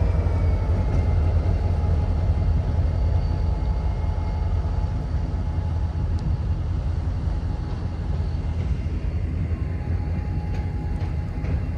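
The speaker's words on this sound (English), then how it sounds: "This is a long train." Continuous heavy rumble and rattle of a long Norfolk Southern freight train, led by an SD40-2 locomotive, rolling steadily past nearby, with faint metallic squeals now and then.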